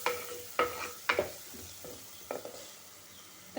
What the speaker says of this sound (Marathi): त्याच्यामध्ये हे मालवणी मसाला टाकते. चांगलं परतून घेते.